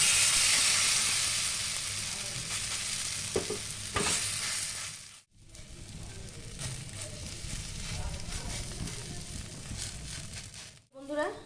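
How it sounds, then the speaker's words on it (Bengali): Semolina toast frying in a little oil in a pan, a steady close sizzle with scraping stirs and brief utensil knocks, pausing twice before the frying resumes. "এবার আমি অল্প তেল দিয়ে এটা ভেজে নেব।"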